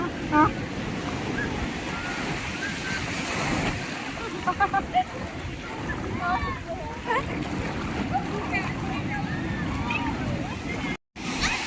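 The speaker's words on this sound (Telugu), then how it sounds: "అంత పెద్ద పెద్ద అలలు వస్తుంటాయా?" Ocean waves rush and crash continuously on a beach, with a constant roar of surf and wind while people talk over it nearby.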